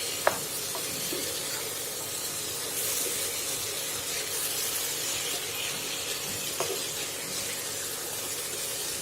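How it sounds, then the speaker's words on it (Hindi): Broccoli fries in spices in a pan over medium flame, Indian style, giving a steady soft sizzle and hiss with a couple of faint clicks of stirring, no talking. "देखिए ब्रोकली को भी हमने थोड़ी देर तक मसाले में भून लिया है"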